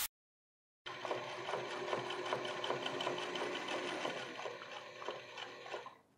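A sewing machine top-stitches jeans at a steady fast rhythm, running continuously and fairly close after a brief silent start, then slowing and stopping at the end.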